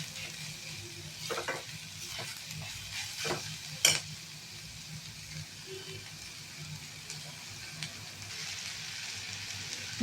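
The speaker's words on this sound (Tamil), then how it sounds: "இது வெங்காயம் வந்து நான் தாளிச்சுக்கிட்டேன். கடுகு உளுத்தம் பருப்பு சீரகம் கொஞ்சம் மஞ்சள் பொடி பெருங்காயம் போட்டு தாளிச்சுட்டேன்" Onion tempers in a hot pan with mustard seeds, urad dal, cumin, turmeric and asafoetida, giving a quiet, steady sizzle broken by a few sharp stirring scrapes and pops.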